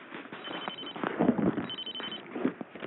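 An L.T.E ST-37V hospital telephone rings with a thin, buzzy electronic warble that repeats over a few seconds, heard at moderate level through a narrow, telephone-like band.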